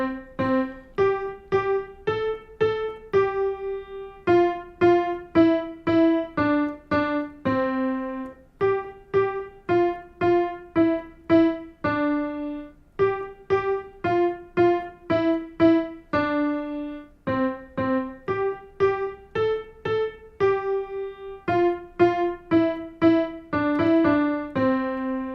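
On solo piano, a simple right-hand melody from a beginner's first song mixes eighth, quarter and half notes in steady, repeating phrases, played clearly without any voices.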